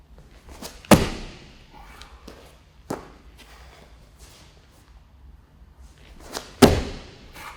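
Bodyweight power jumps in a lower body workout, with a few heavy thuds of feet landing on the floor, spaced seconds apart and loud and close, with faint shuffling between them.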